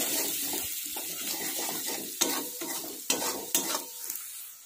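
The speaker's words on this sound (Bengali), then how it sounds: "ওর মধ্যে হলুদ দেব, লঙ্কার গুঁড়ো দেব, নাড়তে থাকবো" Turmeric and chili powder stir with ginger paste in a hot pan, a close sizzle broken by scraping stirs and three or four sharp spatula knocks against the pan.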